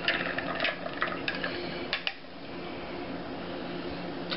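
Spoon stirring a mango nectar cocktail, with a run of light clinks against the glass over the first couple of seconds, then quieter swirling.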